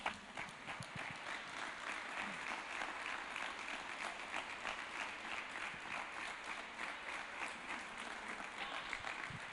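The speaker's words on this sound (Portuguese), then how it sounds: "Uma salva de palmas para Jesus." Congregation applause during a church service, a sustained, even round of many hands clapping, fairly quiet and steady throughout.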